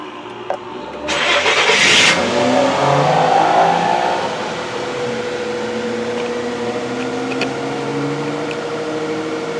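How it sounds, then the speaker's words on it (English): A 4.0 liter V6 car engine cranks briefly and catches with a loud burst, then settles into a steady, smooth idle that hums on alone at close range. "let's start the engine."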